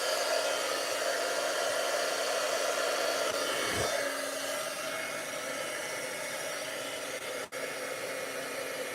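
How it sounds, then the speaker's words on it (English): A heat gun blows a loud, steady hiss and whoosh while melting embossing powder on a Christmas card, holding constant until its tone drops slightly partway through, with no talking. "Let's go ahead and turn on the heat gun really quick."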